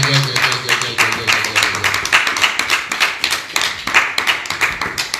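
Church congregation clapping in quick, rhythmic unison, loud and close. Voices cheer and call out over the claps.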